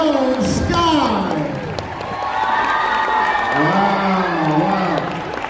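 A school audience of children cheers, whoops and claps in a loud, lively crowd roar, high shouts rising and falling over steady applause in a large room.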